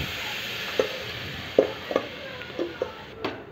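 A coconut laddu mixture with cardamom powder is stirred in a kadhai over a low flame: a steady soft sizzle with a series of irregular scraping strokes, close and alone.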